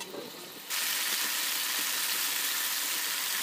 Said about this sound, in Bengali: এবার মশলাটা ফুটে আসলে দিয়ে দেব ভেজে রাখা আলু দিয়ে এবার সব ভালো মতো একসাথে ভেজে নেব।